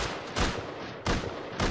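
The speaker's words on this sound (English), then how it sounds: "I'm on pipe shotgun" Pipe shotgun blasts in the video game Rust: three loud, booming shots spaced roughly half a second apart, close and punchy, with no talking over them.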